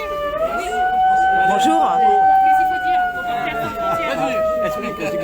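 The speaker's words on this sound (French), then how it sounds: "on va attendre que la sirène s'arrête" An emergency siren wails steadily throughout at a protest over children denied school meals in Ganges, Hérault, its sliding pitch carrying clearly over a crowd while people talk nearby.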